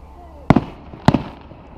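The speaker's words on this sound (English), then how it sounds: "Fireworks!" Two sharp firework bangs go off a short distance away during a total solar eclipse, each a loud crack with a brief echo, spaced about half a second apart over faint background noise.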